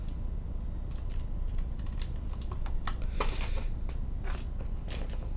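Keycaps are pressed onto a 40% mechanical keyboard with a series of close, crisp plastic clicks and snaps, irregular and scattered, over a steady low background hum.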